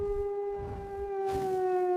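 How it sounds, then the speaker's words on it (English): A wolf's long, steady howl holds one sustained pitch with rich overtones for about two seconds, fairly loud and close, with no talking. "Wolf. This is a wolf."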